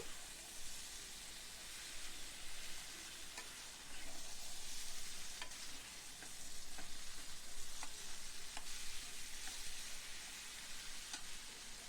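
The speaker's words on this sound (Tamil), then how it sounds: "நல்லா பாருங்கள், அந்த எண்ணெயிலே நல்லா வதங்கிடுச்சு கத்திரிக்காய்." Brinjal (eggplant) fries in oil, a continuous hissing sizzle with occasional clicks and scrapes of stirring, low in level and steady throughout.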